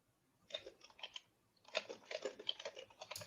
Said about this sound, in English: just quickly typing a question out here